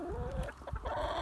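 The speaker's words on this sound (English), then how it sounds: "So here I have a new chicken, a black sex link." A black sex link chicken clucks and murmurs up close, a run of soft throaty calls rising and falling over faint background rustle.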